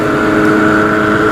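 Loud superbike engines, including a Kawasaki H2 Carbon, roar past on a Sunday group ride as a steady, high-pitched engine drone that stays close and stays strong throughout.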